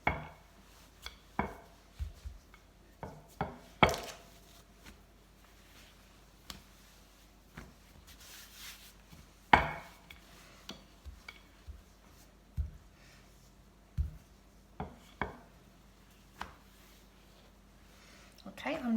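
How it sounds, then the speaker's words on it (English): Rough puff pastry dough with butter trapped between its layers being rolled out by hand, heard as scattered soft knocks and thumps of a rolling pin against a board, irregular and fairly close, with quiet gaps between. "I'm now going to roll it out again. So I'm now trapping the butter in between each of the layers."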